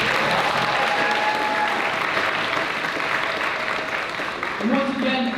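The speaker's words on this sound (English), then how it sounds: "So let's give them a huge round of applause." Applause for the theater tech staff at a school Black History Month celebration, a broad steady roar of clapping from a large audience, with some voices mixed in toward the end.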